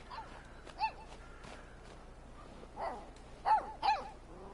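Shroom, a puppy in the video game Life is Strange 2, gives several short yips and whimpering barks, one early and a close pair near the end, over a faint outdoor background.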